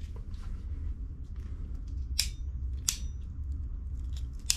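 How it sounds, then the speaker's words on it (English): A hand crimper squeezes a heat shrink wire connector through its nylon and heat shrink sleeve onto the metal barrel, producing two or three short, sharp clicks against a steady low hum, with no talking. "let's set this up and do a crimp"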